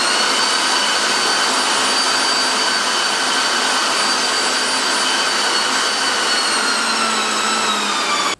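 A machine mincer grinds chilled, freezer-cold pork fat with a loud, steady, continuous whir that holds unbroken throughout, then cuts off abruptly at the end.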